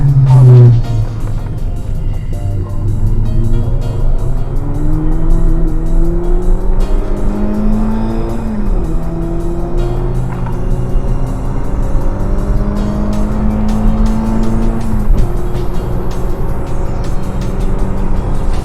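A race car laps the Mallory Park circuit, its loud engine heard up close as it revs and climbs repeatedly through the gears, with brief drops in pitch at each shift.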